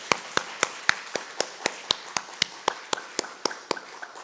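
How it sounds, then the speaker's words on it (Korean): Church congregation clapping together in steady, even rhythm, about four claps per second, crisp and unified, with no talk over it. "우리 박수로 축복하겠습니다"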